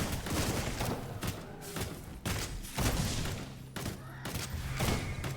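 Rapid shotgun blasts fire in the action game Shape of Dreams, a dense, loud run of booming shots with short gaps, layered over busy game effects.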